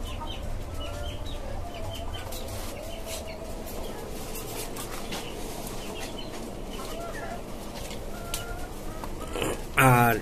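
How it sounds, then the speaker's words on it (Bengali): Tiger chickens clucking steadily on a five-storey rooftop poultry farm, several birds close by with overlapping calls throughout, and a short louder burst near the end. "আর এইখানে আমার আরো কিছু টাইগার মুরগি আছে নতুন।"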